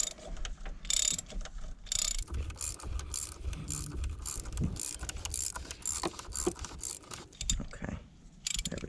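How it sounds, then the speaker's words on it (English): A 27mm socket on a ratchet unscrews the plastic oil filter housing of a 2016-2020 Chevrolet Colorado or GMC Canyon Duramax diesel, with repeated close ratchet clicks and scraping in short bursts. "put our 27mm socket on top of our oil filter housing. Unscrew it very gently"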